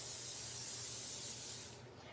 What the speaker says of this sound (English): Okay, I'm going to spray